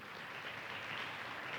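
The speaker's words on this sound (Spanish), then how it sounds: "¿Le podemos dar ofrenda de palmas al Señor?" A church congregation gives a steady burst of applause, a dense wash of clapping throughout.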